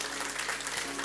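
Congregation clapping together at an evangelical church service in Munich, a dense, steady burst of applause that fills the room from start to finish.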